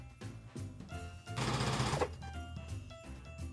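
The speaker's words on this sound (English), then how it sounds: "Now I'm sewing it on the sewing machine right now" A sewing machine stitches fabric for a Grinch costume, a close, rapid mechanical chatter that runs in a brief burst amid quieter handling noises, with no talk.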